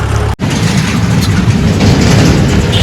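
Loud, continuous rumble of a Delhi metro train rolling past close by, heavy low-end roar with rattling wheels, briefly cut near the start.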